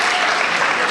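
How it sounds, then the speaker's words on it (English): An event audience applauds with dense, loud, continuous clapping that fills the whole second, close and without any pause or voices. "Give him a big round of applause, please."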